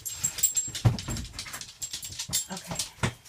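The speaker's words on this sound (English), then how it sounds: "Now my dog is barking outside the door." A dog just outside a door yips and whimpers in a quick series of short, close, fairly loud bursts, with no talking over it.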